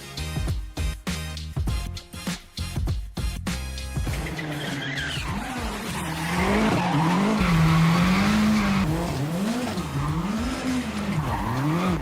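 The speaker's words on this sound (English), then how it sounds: "Here's American race car driver Ken Block drifting." Ken Block's race car drifting, engine revs rising and falling as the tires squeal in long wavering sweeps, loud and close, after a few seconds of other sharp sounds.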